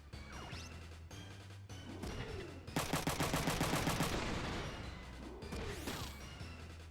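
Machine gun fire in a video game, a rapid burst of loud shots amid crashing impacts and whooshing game effects, with no voices.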